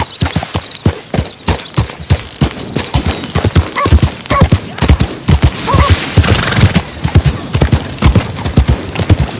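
Rapid, rhythmic hoofbeats clopping loudly and close in Red Dead Redemption 2, a steady trot with a brief whinny-like sound partway through, from glitchy horse controls.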